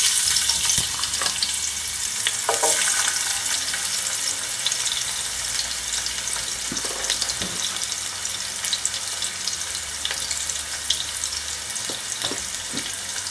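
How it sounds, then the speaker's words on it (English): Ginger and garlic sizzle steadily in hot oil in a pot, a continuous close frying hiss with occasional stirring scrapes and light clinks, no talking. "And you're just gonna allow it to saute for just a couple of seconds."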